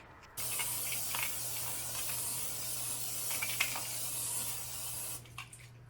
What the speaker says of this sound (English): Generous amount of spray.